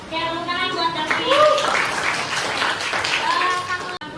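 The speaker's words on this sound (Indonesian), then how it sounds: "tepuk tangan buat Davi" A high school biology class claps for a student, a short burst of hand clapping mixed with voices and classroom chatter.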